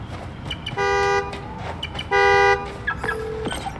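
In the Spider-Man: Miles Morales video game, a remote key fob sets off a car's horn: two clear, loud honks about a second apart, then a softer, lower tone, over a noisy street backdrop.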